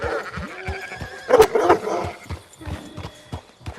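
Horse hooves clop on a road in Red Dead Redemption 2 in an uneven rhythm, close by, with a brief whinny-like sound partway through.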